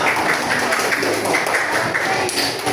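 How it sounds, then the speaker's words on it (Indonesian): Students in a classroom give group 3 a round of applause, with dense, steady clapping from a crowd of pupils that carries on evenly at close range. "Tepuk tangan untuk kelompok 3"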